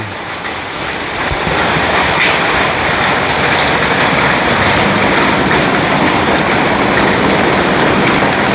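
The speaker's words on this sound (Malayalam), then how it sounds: "ചുട്ട മഴയല്ലേ" Heavy rain pours down in a dense, steady roar that swells after the first second and stays loud and unbroken.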